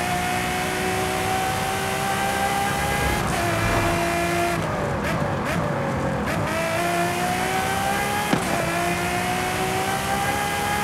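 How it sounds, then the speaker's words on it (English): A 2015 Ferrari F12TDF in Forza Horizon 5 drives with a loud, sustained V12 exhaust note that climbs through the revs, dips at gear shifts and pulls strongly under acceleration, with a short burst of tire noise midway. "the F12TDF boasts impressive acceleration and a thrilling exhaust note that echoes Ferrari's"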